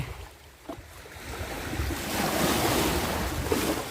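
Sea waves wash up on a seashore where people are fishing, a broad hissing surge that builds from a softer rush into a fuller, sustained roar with wind-like breath and no voices.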